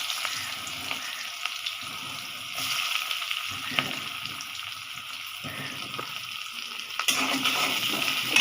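Onions sizzle steadily in hot oil after eggs were fried, a continuous crackling hiss with occasional stirring scrapes and a louder burst near the end.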